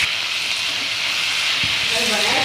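Tomatoes frying in a pan with onion and cabbage for quick atta noodles, a steady broadband sizzle with a faint voice and a few stirring knocks near the end.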